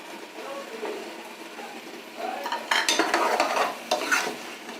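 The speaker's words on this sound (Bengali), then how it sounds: "এখন আমি মশলা শুদ্ধ মাংসটাকে সুন্দর করে কষিয়ে নেব" Mutton coated in spices is stir-fried with fried potatoes and garlic in a pan, giving a soft sizzle under repeated scraping and stirring that grows louder and busier partway through.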